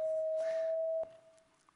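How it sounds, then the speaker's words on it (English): One steady electronic tone, used as the eyeborg sound for the colour purple, holds for about a second and then cuts off, leaving faint background noise and a soft click. "this is the sound of purple"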